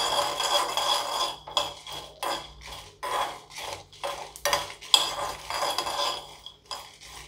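A metal spatula scrapes and clinks against a pan in short, uneven bursts with brief pauses between them, as moringa leaves fry with cumin seeds.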